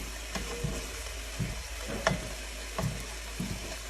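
Scallops sear in a hot pan, with a steady sizzling hiss broken by repeated soft clicks and taps as they are moved about, close up and with no talking.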